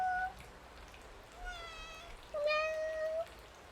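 A cat meows three times close by: one short call, then two longer, drawn-out meows with pauses between them, in a quiet indoor room.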